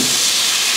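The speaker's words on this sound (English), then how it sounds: "So I'm going to put a little bit of wine." Wine poured into a hot pan with fillet of sole, giving a loud, close, continuous steamy hiss for a brief moment.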